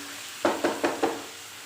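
Potatoes and moongre are stirred in a hot pan: four distinct scraping, sizzling strokes in even rhythm against a quiet frying hiss, close and moderately loud.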